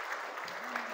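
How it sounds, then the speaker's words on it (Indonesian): Seminar audience applauding at a public speaking session in a school, a steady wash of clapping with a voice briefly audible under it. "Tepuk tangan untuk kita semuanya hari ini."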